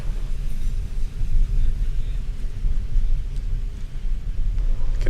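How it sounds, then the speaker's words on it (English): Formula Student race car rolling slowly at an acceleration event, a low, uneven engine rumble with faint crowd or background noise around it, moderately distant. "You can hear the Racing Team car rolling."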